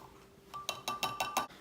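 Kool-Aid powder stirred into a glass of water, a spoon clinking against the glass in about five quick, close taps.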